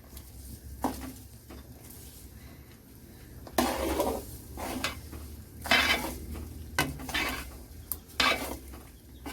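A tomato pickle with tamarind bubbles and simmers in a pan while it is stirred now and then. Soft spluttering runs under repeated scraping and clinking of the spoon against the pan, close and fairly quiet, with no talk.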